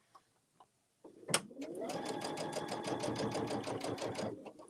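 A sewing machine stitches a bag project. After a few soft clicks it starts up and runs in a steady, fast, close mechanical rattle for several seconds, with no voices.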